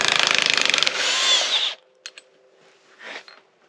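A Craftsman V20 high-torque impact wrench backs out a 5-inch lag bolt: a loud, rapid hammering rattle, then a smooth whirring spin as the bolt frees, followed by a few faint clicks and clatters.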